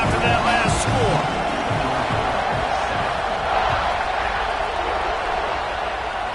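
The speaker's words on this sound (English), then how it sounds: "this crowd is buzzing after that last score." A college football stadium crowd in Oklahoma's game buzzes as a dense, continuous murmur in the background, heard under steady play-by-play commentary.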